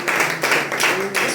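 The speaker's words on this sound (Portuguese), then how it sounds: "Vamos aplaudir Jesus, queridos." A church audience claps in a short burst, rhythmic hand claps in quick rough groups, fairly close and moderately loud, with no voices over it.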